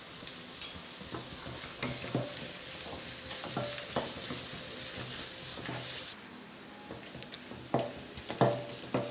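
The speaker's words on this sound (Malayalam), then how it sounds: "ഉള്ളിയെല്ലാം നന്നായിട്ട് വഴന്നിട്ടുണ്ട്." Small shallot-type onions sauté with salt in a pan, a soft, fairly quiet sizzle under repeated scraping and tapping of a stirring spoon, heard at close range.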